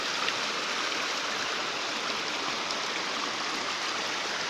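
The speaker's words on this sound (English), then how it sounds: "You can see the waterfall, so beautiful." Tancak Tulis waterfall in wild Indonesian forest, a tall cascade of clear water: a steady, full rushing roar of falling water, unbroken and even throughout, with no voices.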